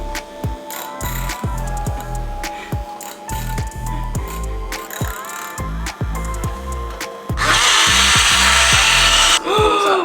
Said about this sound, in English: Heavy whipping cream, some sugar, and vanilla. Electric whisk.